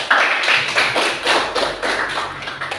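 A class claps the 'tepuk hebat' pattern together, a quick run of close, loud, rhythmic claps and taps keeping an even beat.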